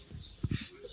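Pug puppies, lively and active, give a couple of short close whimpering yelps in quick succession against a soft background murmur of voices.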